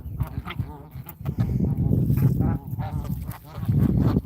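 A pet goose named Pretty Bird honks repeatedly while mating with another goose, harsh nasal honks and quacking calls overlapping loudly and close, with other fowl calling around.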